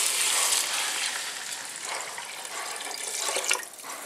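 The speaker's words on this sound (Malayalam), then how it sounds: "ഞാനിപ്പോൾ 6 ഗ്ലാസ് വെള്ളം ഒഴിക്കണേണ്." Water is poured into rice for vegetable pulao, a steady close splashing gush that eases slightly toward the end with no talk.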